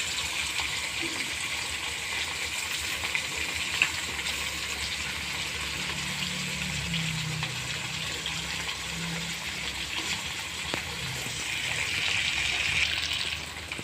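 Pangas fish fries in oil in a pan, making a steady, close hiss that runs unbroken and swells slightly toward the end.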